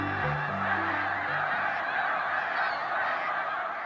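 A massive flock of snow geese, thousands strong, takes off at once, their honking merging into a loud, continuous clamor with individual calls poking through close by, steady throughout with no voices.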